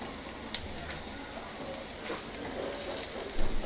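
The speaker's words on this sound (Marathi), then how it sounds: "हिरवी मिरची टाकूया आता कापलेली, त्याला पण चांगलं लालसर भाजून घेऊया कांद्यासोबत" Sliced green chillies frying with onions in a pan, a soft, steady sizzle with scattered light crackles and pops, faint and close, with no one speaking.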